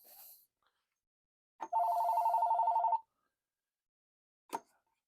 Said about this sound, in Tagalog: Ang telepono namin nagre-ring